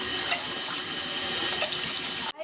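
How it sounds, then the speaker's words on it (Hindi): Water runs steadily while rohu fish are washed at a village home, a close, continuous rushing splash that cuts off abruptly near the end. "ई तब माछ हम सब धो रहल छी।"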